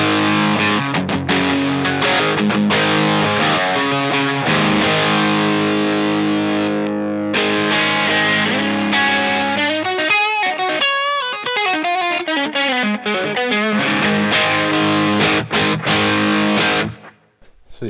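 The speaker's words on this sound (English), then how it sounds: "I'm going to go to distortion now." An electric guitar with humbucker pickups plays heavily distorted chords and riffs, loud and continuous with brief pauses, ending on a sustained chord that cuts off abruptly.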